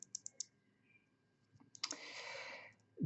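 Kailh Cherry ML clone keyboard switches, thin PCB-mounted, heavier clicky type: a few light clicks, then a longer burst of clicking and rattling, heard close and alone.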